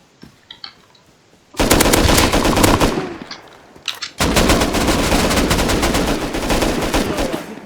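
Automatic gunfire in the survival video game Rust, two long loud bursts of rapid shots separated by a short pause, preceded by a few quieter scattered sounds.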